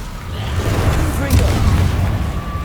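A fire spell cast in a Harry Potter video game, heard as a low rumbling whoosh that swells and holds steady for a couple of seconds, loud and dense under a bed of game sound.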